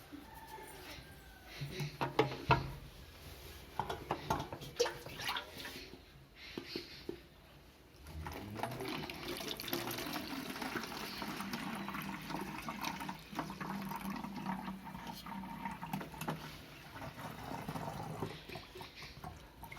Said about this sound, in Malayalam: ഇതിനകത്തേക്ക് തന്നെ ഒന്ന് ഒഴിച്ചു കൊടുക്കാം